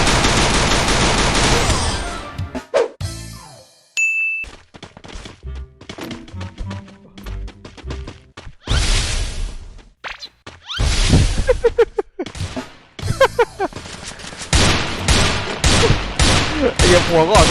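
Video game guns fired into the ground in rapid, loud bursts. Sharp, clicky shots repeat in quick strings separated by short gaps, with some voice heard between the volleys.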